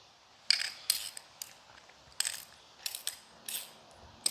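Bolts being run into brake caliper parts for a pickup truck's brake pad swap, with a series of sharp metallic ratcheting clicks and clinks in short irregular bursts, close and fairly quiet.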